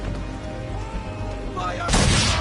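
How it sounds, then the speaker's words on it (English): Swivel guns fired at powder barrels during a naval battle in Assassin's Creed III, a sudden heavy blast bursting out after a low rumbling background, loud and close, followed by a crackling, debris-like roar. "Now give the swivel guns a turn."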